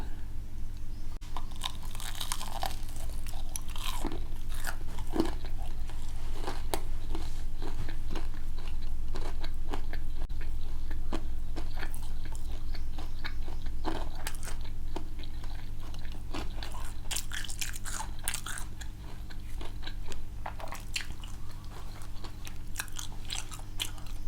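Crunchy fried chicken dipped in ketchup and mayonnaise is bitten and chewed close to the microphone, with repeated crisp crackles and crunches over a steady low background hum.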